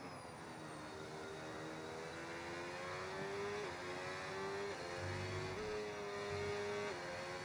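Formula-style race car engine in the F1 26 racing game at Spa in Belgium, a steady high whine with harmonics that dips and steps as the driver lifts off and feathers the throttle, continuous and close throughout.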